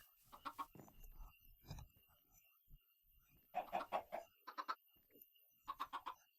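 Chickens on a video game egg farm cluck in several separate clusters of quick, rough calls, fairly faint against quiet game ambience with gaps of near silence between them.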